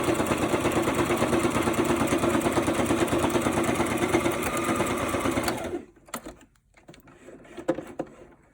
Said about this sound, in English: the sewing machine had a little glitch there